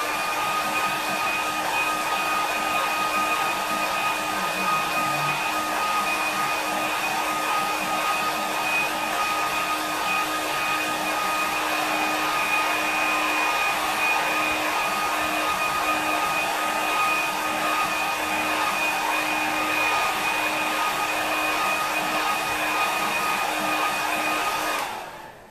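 A hair dryer blowing on a watercolour painting of Sutton Park runs close and loud as a steady, unbroken whine and rush of air for the whole stretch, cutting off at the very end.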